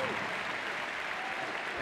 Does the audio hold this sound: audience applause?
yes